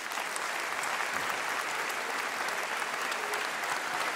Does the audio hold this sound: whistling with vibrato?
no